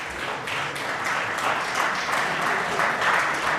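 Listeners at a Hare Krishna talk clap steadily in a room, a moderately loud, even patter of many hands with no pause across the few seconds.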